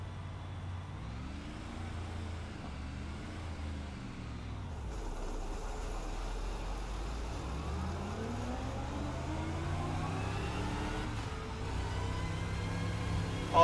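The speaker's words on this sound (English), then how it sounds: "Definitely going to be a very throaty sound out of this V8 engine." The GT-M Lux V8 engine in the Assetto Corsa video game revs steadily with a gearbox whine, and the rising and falling engine tones show repeated acceleration through the gears. The engine is continuous and moderately loud with no talk over it.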